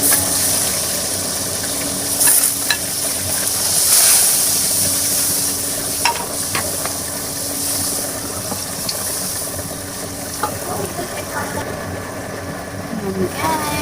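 Onion sizzles and hisses as it fries in butter in a pan for barbecue baby back ribs, a steady crackle with occasional clatter under a voice.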